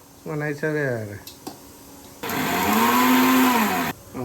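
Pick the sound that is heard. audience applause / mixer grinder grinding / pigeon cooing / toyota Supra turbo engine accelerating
mixer grinder grinding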